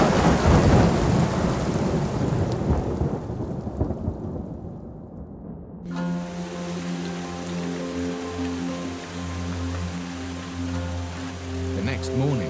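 Heavy rain pours down in the Amazon rainforest during a thunderstorm, a loud rushing roar with rumbling that fades, then shifts abruptly to a steadier, tonal downpour under a droning hum.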